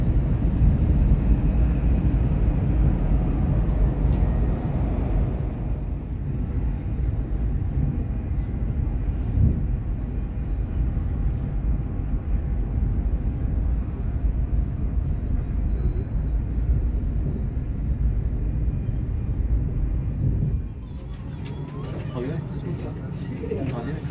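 Inside the Whoosh high-speed train running at 350 km/h, a steady low rumble and rolling roar continue throughout and ease slightly near the end.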